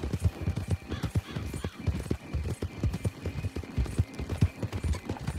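Horses clip-clopping in the video game Red Dead Online: a rapid, steady rhythm of hoofbeats from several horses, fairly close and clear, with no talk over it.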